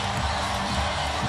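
Arena crowd at the Quicken Loans Arena during an NBA game, a dense, loud, continuous roar of cheering that fills the whole moment without a break.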